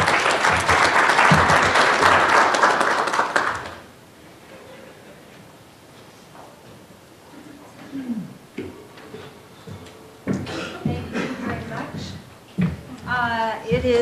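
Audience applause for a guest speaker at a medical-dental collaboration talk: loud, dense clapping for a few seconds that dies away abruptly, followed by quiet room noise and a voice speaking.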